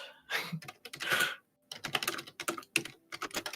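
Rapid typing on a computer keyboard, close and clear, with bursts of clicking keystrokes separated by short pauses and no talking.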